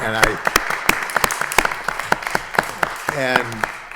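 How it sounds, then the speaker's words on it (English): Scattered clapping at a city license commission meeting, sharp individual claps from a small group rising and falling, with voices talking over them at several points. "deserve one big round of applause"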